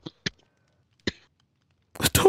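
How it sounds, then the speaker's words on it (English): Three short, sharp coughs or throat-clearing bursts, spaced apart and close to the mic, followed by a louder, denser burst of noisy voice at the end. "Don't cough at me."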